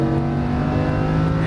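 Lamborghini Huracan engine pulling hard under throttle on a race track, a loud, steady, close-up drone with strong harmonic bands and no break across the stretch.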